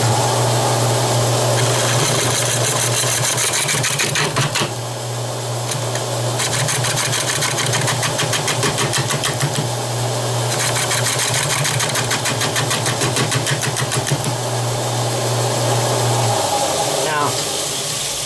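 A wood lathe turns a root platter with a steady motor hum while a tool cuts in repeated scraping passes, the sound changing as the tool is pulled away and put back, with someone talking over it.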